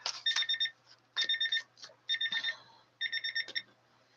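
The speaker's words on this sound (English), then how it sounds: "And there's our timer." A timer alarm goes off in four rapid bursts of shrill electronic beeps, each burst a quick run of pulses separated by short pauses, fairly close and clear over a quiet room.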